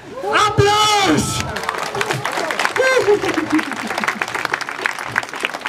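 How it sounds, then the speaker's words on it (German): Audience at an outdoor summer art and night market breaking into clapping and some cheering, with loud shouted voices over the start and a steady patter of applause continuing after. "Applaus!"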